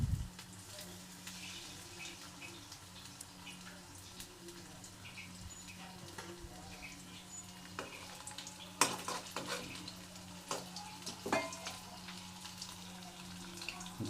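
Overheated oil in a wok, soft and distant, with a continuous faint hiss over a low steady hum and a few sharp clicks and clatters toward the end.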